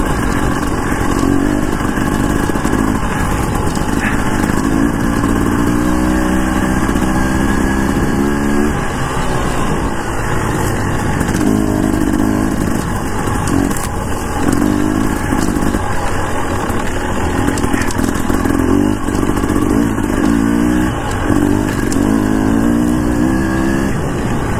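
Motorcycle on worn knobby tires riding through snow, a steady loud engine drone with repeated rising and falling revs as it climbs and eases off, no voices.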